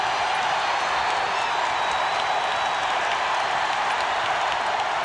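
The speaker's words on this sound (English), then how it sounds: "North Carolina crowd doing a tremendous job" A North Carolina home crowd fills a basketball arena with a steady, loud roar of cheering and broadband crowd noise throughout, with no distinct voices standing out.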